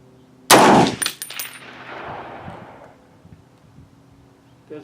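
A single loud, close rifle shot from a National Match M1A fired at a target, with a sharp crack and a long echoing tail that fades over several seconds outdoors.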